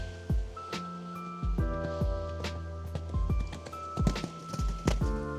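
A show-jumping horse warmed up after a few small jumps moves on firm ground with steady, close clip-clop hoofbeats in an even rhythm, over a faint background hum.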